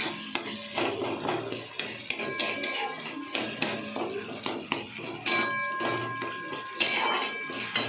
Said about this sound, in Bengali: এবার আদা বাটাটা যতক্ষণ না কাঁচা ভাবতে যাচ্ছে ততক্ষণ আমি কষাবো।